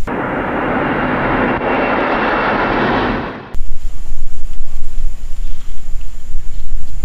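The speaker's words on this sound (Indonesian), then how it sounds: "Wow, ada pesawat terbang teman-teman buat ngangkut di udara." An airplane engine gives a loud, steady roar for a few seconds, then cuts abruptly to a harsher, fluctuating rumbling noise.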